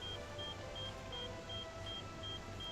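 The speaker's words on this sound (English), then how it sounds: "Stop beeping! It's annoying." Surgeon Simulator 2013 gameplay with a short electronic beep repeating at a steady, quick rhythm, about eight times, over a constant dense hum.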